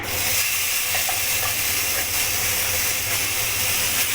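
Constant hissing sizzle of spices frying in a hot wok for chicken soup, a dense, even, steamy crackle with no talking.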